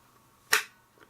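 A Stampin' Up! ink pad clicks back into its housing with one sharp, close click and a faint tick after it in a quiet room.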